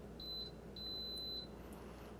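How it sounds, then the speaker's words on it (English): Toshiba air purifier beeping during Wi-Fi setup: two clear electronic beeps, the second longer, sounding alone over a quiet room hum. "until you hear the beeps."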